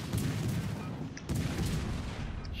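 The destroyer Mahan fires its guns in a naval battle game, a dense rumble of loud booms with two heavier bursts, all close and without talk.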